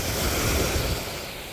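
Surf rolling onto a warm summer beach at Deerfield, the water thick with seaweed, makes a steady, broad wash with wind buffeting the microphone throughout and no voices over it.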